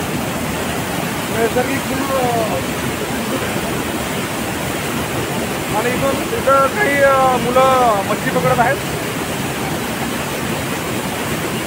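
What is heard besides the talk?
Nalkund waterfall near Buldhana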